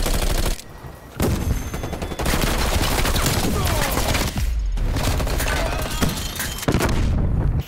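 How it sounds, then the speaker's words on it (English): Rapid gunfire in Call of Duty: Black Ops Cold War, loud bursts of automatic fire and shots broken by short pauses, close and aggressive, with a brief voice in the mix. "how you gonna shoot me like that"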